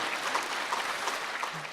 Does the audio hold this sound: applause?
yes